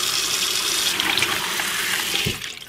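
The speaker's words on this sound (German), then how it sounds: "Und jetzt wird er richtig gründlich mit kaltem Wasser abgespült." Brined pike rinsed thoroughly under cold running water, a loud, steady rush from the tap that cuts off near the end, no voices.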